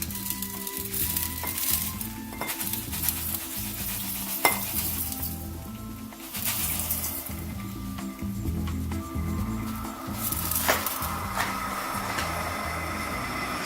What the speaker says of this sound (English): You can hear it boiling as I put it in.